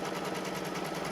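Embroidery machine stitching a zippered pouch in the hoop, a fast, even mechanical whir with rapid regular pulses, close and moderately quiet, alone without talking.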